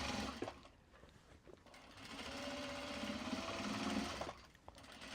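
A sewing machine runs in a quiet room, a steady close whirring hum that rises in pitch through the middle and then stops, with brief clicks at start and end.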